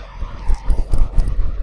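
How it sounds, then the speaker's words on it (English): Road traffic rumbling nearby, a low continuous wash of passing vehicles with uneven swells, short and fairly loud. "Excuse the noise from the road."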